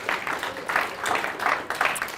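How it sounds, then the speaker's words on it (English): Audience at a comedy show applauding, a moderate patter of many hands clapping in uneven waves at middle distance. "Give yourselves a massive round of applause."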